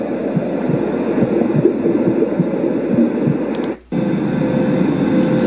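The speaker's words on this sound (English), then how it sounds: "this is supposed to be the sound of an airplane cabin" An Elesories S5 STD Pro sound machine plays an airplane cabin track, a steady broadband drone with faint low throbbing, briefly cutting out near the end before resuming.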